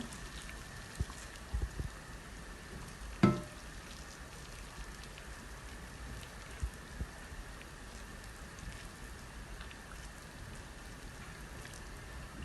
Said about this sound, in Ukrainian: зараз я її залию кипятком